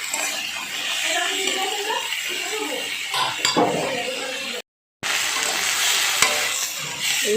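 Greens and vegetables being stirred in a kadai, a close, continuous sizzle with scraping and occasional clinks of the spoon against the pan, broken by a brief silent gap.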